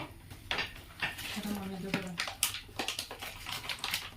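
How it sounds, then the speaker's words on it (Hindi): Dry fruits such as cashews and almonds stirred in ghee in a pan, with soft clinks and scrapes of a utensil against metal, a light sizzle and a faint voice underneath. "और अब हम ड्राई फ्रूटों को भून रहे हैं थोड़ा।"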